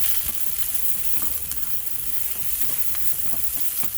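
Yellow chile or jalapeño frying with garlic in a pan over medium-high heat, giving a continuous bright sizzle with light crackles and soft stirring scrapes throughout.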